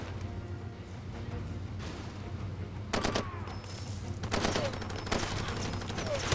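Bursts of gunfire from Far Cry 2 crackle through a constant low game rumble, with sporadic shots early, then two dense volleys around the middle and the end, fairly loud and close.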